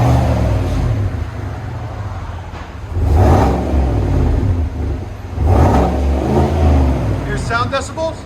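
A 2020 Chevy Silverado with a 5.3L V8 and Flowmaster Super 10 exhaust idles with a deep, steady rumble, then rises in two strong revs before settling, while people talk over it.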